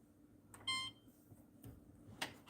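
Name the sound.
air fryer beeping as it is set to air fry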